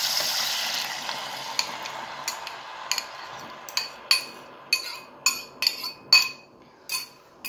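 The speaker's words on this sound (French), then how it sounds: "J'y rajoute la sauce." Sauce poured onto beef in a pan hisses briefly, then gives way to a run of distinct spoon scrapes and clinks against the pan as it is stirred, growing more rhythmic toward the end.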